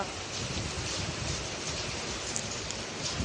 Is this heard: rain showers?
yes